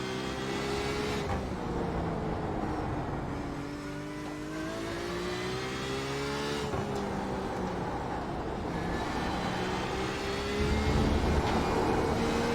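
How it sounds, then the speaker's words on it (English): Race car engines drone and rev through shifting gears, with a faint scrubbing hiss from the tires beneath the engine note. "Listen for tire scrub."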